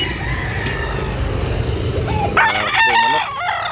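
Rooster crowing amid the bustle of Carbon Market in Cebu, a single rising and falling crow over steady crowd and traffic noise, with a voice talking nearby.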